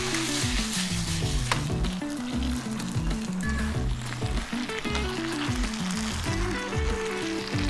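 Vegetables with sauce, mango and beef sizzling loudly in a pan, a steady close frying hiss with stirring scrapes and background music underneath, and no talk.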